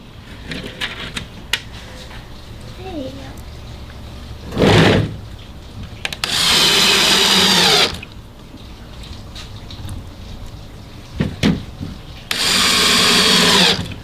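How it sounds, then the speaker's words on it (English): A power drill drives screws into a louvered teak console door in two sustained whirring bursts of about a second and a half each, with brief lighter tool sounds and handling noises between them. "Put these other screws in here. Don't overdrive them."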